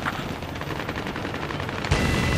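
Rapid bursts of video game gunfire rattle continuously in a dense, noisy barrage, with a sharper, louder blast near the end, from a combat flight game.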